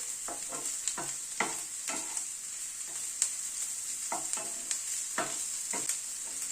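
Chopped onion, ginger and green chili fry in a pan under a steady, close hiss of oil, broken by repeated scraping strokes of a spoon stirring at an irregular rhythm.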